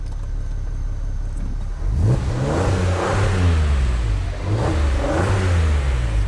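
A Volkswagen R32 or R36 engine revs loudly nearby, with a deep, rising exhaust roar in repeated pulls over a steady idle, and no talk.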